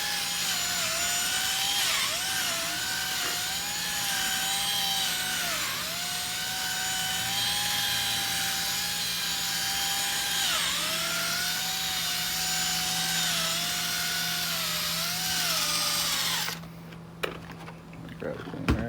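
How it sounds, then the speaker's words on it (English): A power drill with a buffing head whirs continuously at high speed, its pitch dipping briefly several times as it polishes a Honda Odyssey headlight, then cuts off near the end. "I'll pick the speed up a little bit on the drill head."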